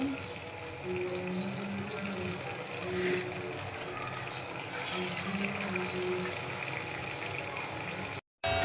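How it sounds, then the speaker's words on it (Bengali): Beguni, eggplant fritters, deep-frying in hot oil in a home kitchen, a faint continuous sizzle and bubbling that holds steady throughout, with a couple of brief louder bursts. "বেগুনি ভাজা হচ্ছে"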